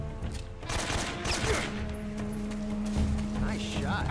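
Rapid bursts of gunfire in Metal Gear Solid 3 combat, with several sharp shots close together over continuous background game sound and low voices.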